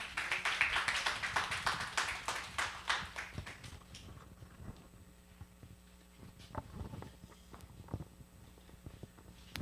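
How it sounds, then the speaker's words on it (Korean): Crowd at a youth center opening ceremony giving a short round of clapping that dies out after a few seconds, followed by quiet room hum and a few scattered taps. "네, 큰 박수로 맞이해주세요."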